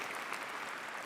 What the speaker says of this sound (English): Special round of applause for Craig.